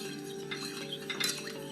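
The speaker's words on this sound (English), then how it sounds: "we're just gonna stir this until the gelatin is dissolved" A spoon stirs gelatin in a pot for aspic, giving soft, scattered clinks and scraping against the metal. The sound is quiet and close, with no voices.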